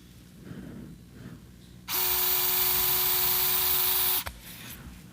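A surgical power driver drives a 2.4 mm guide pin into bone during osteochondral lesion treatment with an OATS kit, giving a steady high motor whine for about two seconds that stops sharply, with quiet background before and after.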